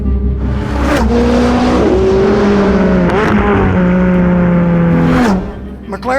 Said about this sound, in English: McLaren 570S. I love the doors. 570 is for the horsepower. This car is fast. It really accelerates hard.